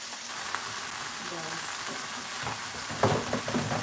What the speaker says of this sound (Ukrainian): Так, смажемо, смажемо м'ясо.